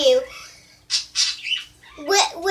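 Budgies squawking and chirping indoors, a few sharp bursts with short pauses between, fairly close and moderately loud.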